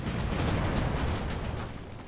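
Ship cannons fire in the online naval video game The Pirate: Caribbean Hunt, a loud, dense booming burst that rolls on for about two seconds before easing slightly.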